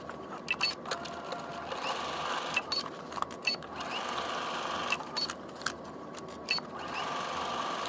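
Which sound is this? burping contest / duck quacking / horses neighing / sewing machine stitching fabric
sewing machine stitching fabric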